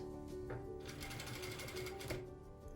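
A sewing machine stitching velour fabric runs in a steady, fast mechanical whir with rapid needle clatter, close and continuous, briefly easing at the start before settling into a constant hum.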